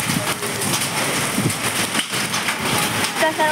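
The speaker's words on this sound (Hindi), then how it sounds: "इधर बारिश हो रहा है बहुत जोर का" Heavy rain pours during a storm in Mumbai, a steady broadband hiss of drops that stays loud and continuous throughout, with voices talking faintly beneath it.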